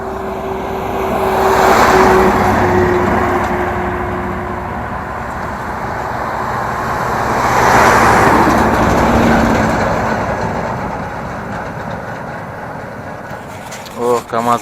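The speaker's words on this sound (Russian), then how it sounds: "О, КамАЗы проехали" KamAZ trucks roll past on a high mountain road, two engine roars swelling and fading one after the other in open quiet, with a brief clatter at the end.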